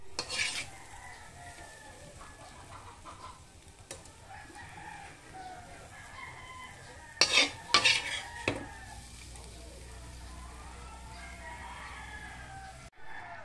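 Bitter gourd (ampalaya) and egg are stirred and fried in a pan, with a utensil scraping and clattering against the metal, a burst of louder clinks midway and a rooster crowing faintly in the background.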